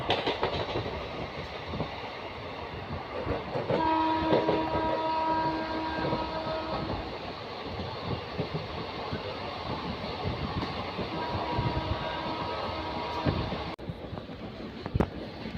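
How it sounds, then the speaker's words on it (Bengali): The Howrah–Rampurhat Shahid Express, an electric-hauled passenger train, runs at speed past the Howrah electric loco shed, with a steady rumble and clickety-clack of wheels and a brief horn-like tone partway through. "এদিকে আমাদের ট্রেন ছুটে চলেছে ইলেকট্রিক লোকোশেড হাওড়ার সামনে দিয়ে, এবং ট্রেন আমাদের মোটামুটি অনেকটাই গতিবেগ নিয়ে নিয়েছে"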